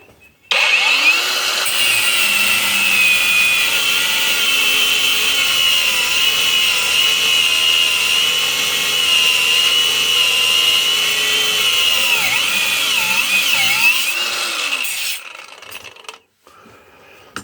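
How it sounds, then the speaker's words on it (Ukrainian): A cordless angle grinder cuts through 12 mm steel rebar, a loud sustained high-pitched whine with grinding that wavers under load for about fourteen seconds, then spins down and stops. "попробуємо цей же самий 12-й арматуру, пруток перерізати на цьому АКБ"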